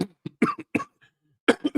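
A person coughs close up in a series of sharp, throaty bursts with short pauses between them, ending in a quick cluster of coughs.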